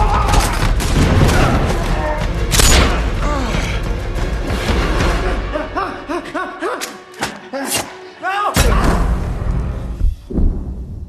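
Gunfire in a crime film scene about a gang boss's son working as a cash guard and a robbery crew: sharp, loud shots and heavy thuds come in clusters, mixed with tense voices.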